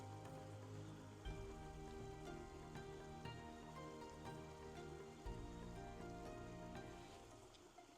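Water pours steadily over the waterfall of a 13,000-litre koi pond, making a continuous, close rushing and splashing wash with no pauses.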